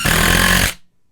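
A cordless drill fitted with a DeWalt Flex Torq bit drives a screw in one loud, close burst of motor whine lasting under a second, then cuts off into silence.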